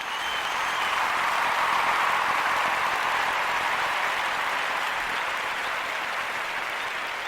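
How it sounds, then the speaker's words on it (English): Canned applause fired from a soundboard during a barbershop talk segment, a steady wash of many hands clapping at an even, fairly loud level for about seven seconds with no voices. "Let's get some claps."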